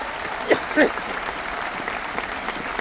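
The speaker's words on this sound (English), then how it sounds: "Come on, clap your hands." Audience clapping along at a Tim Storey event in Edmonton, a soft, steady patter of hands under crowd noise, with a couple of brief vocal whoops near the start.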